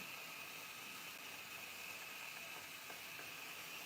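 A hair steamer gives off a soft, continuous hiss, steady and unbroken for the whole stretch, with no voices.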